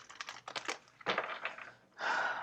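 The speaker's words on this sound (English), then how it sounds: "I'm being called to shuffle the cards." Quick papery riffles and flicks of tarot cards being shuffled, a few bursts in succession ending in a longer crisp ruffle, close by with no talking.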